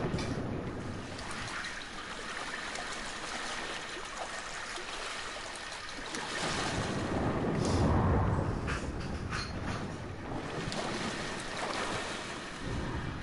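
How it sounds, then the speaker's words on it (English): Character swimming through water in the Darksiders 2 video game, with continuous splashing and rushing water that swells louder midway, no talking. "I want to go in the water for a little bit."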